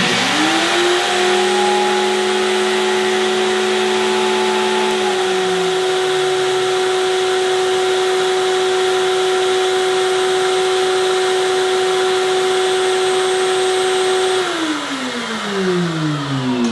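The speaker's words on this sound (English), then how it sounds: "the vacuum to turn on" A shop vacuum runs alongside a sander in a woodworking setting, switched on through an Etoolcity automatic dust collection switch. The loud steady motor whine holds constant, then the pitch drops near the end as the machines spin down, with no talking.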